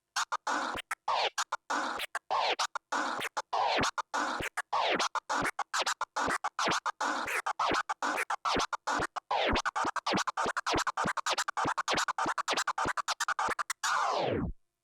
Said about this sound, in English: And the orbit scratch sounds like this.